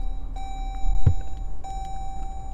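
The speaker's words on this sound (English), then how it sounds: "Power moonroof." An electric motor hums as the power moonroof of a 2017 Dodge Durango moves inside the cabin, with a steady whine starting and stopping and a soft thump in between, no talking.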